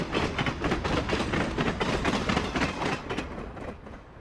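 A Domeliner passenger train crosses western Wyoming, its heavy continuous rumble and clattering wheels loud and close, easing slightly toward the end.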